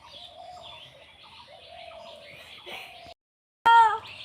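A pet bird calls for a biscuit in a home, giving a run of chirps and warbling notes, then a brief pause before a louder, sharper call close by.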